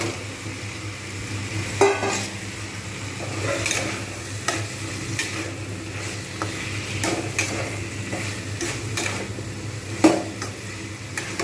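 Banana flower with chickpeas and fried potatoes is sautéed in a pan, producing a low steady sizzle under repeated scraping stirs and a few sharp utensil knocks against the pan.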